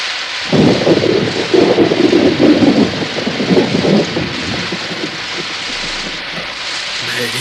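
Steady heavy rain with a low rumble of thunder swelling in the first half and then easing, loud and continuous throughout, with no one talking.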